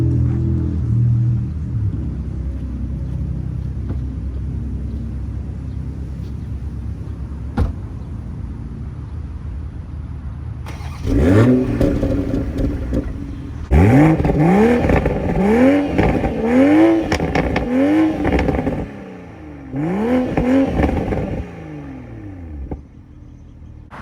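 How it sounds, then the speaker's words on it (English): A 2021 Toyota Supra's straight-six engine idles low at first, then barks into several sharp revs in quick bursts, with rising and falling sweeps and brief pauses between blips, loud and close. "I'm gonna let you guys hear what that straight six sounds like really quick."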